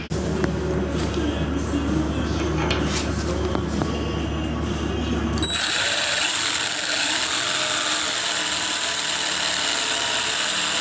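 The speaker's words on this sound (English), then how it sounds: "With the cold metal, the step drill did a pretty good job reaming those holes out." A step drill reams holes in cold metal, a steady harsh grinding whine filling the first half, then switching to a higher, thinner scraping hiss with some low rumble.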